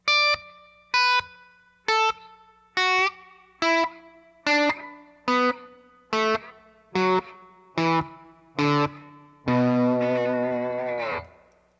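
Slide guitar exercise with the slide gliding along the string: eleven evenly spaced, ringing plucked notes with slight pitch bends, closing on a longer sustained chord, played alone with no talking.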